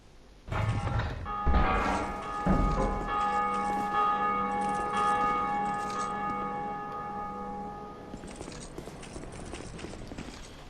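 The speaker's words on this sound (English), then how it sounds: "you can come in here and ring the bell" A heavy bell in the video game Dark Souls 2 is struck, its clanging onset followed by a long, rich ringing tone with a mechanical clunk, slowly decaying over several seconds before fading into quiet ambience.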